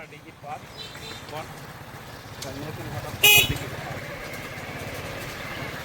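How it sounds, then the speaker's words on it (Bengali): A motorcycle engine runs under a voice as he rides along a village road near a large pond, with one short loud horn honk partway through. "আমি ড্রাইভ করতেছি মোটর সাইকেল"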